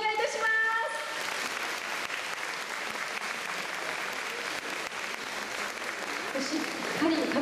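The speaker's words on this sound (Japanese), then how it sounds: "今一度大きな拍手をお願いいたします。" A crowd applauds the winner of a Korean song contest's regional qualifying round, giving sustained, even clapping of moderate loudness with a faint tone and some background murmur at the start.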